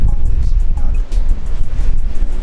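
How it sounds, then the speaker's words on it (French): Strong coastal wind buffets the microphone on a walk in Normandy, a loud, gusty low roar that rises and falls continuously, with no clear talk over it. "c'est le vent"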